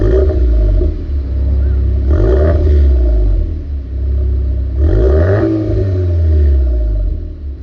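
A VW Golf 8R's 2.0-liter turbo petrol engine, rated at 235 kW and 400 Nm, revs loudly in two rising surges with a deep, rumbling idle between them, close and alone.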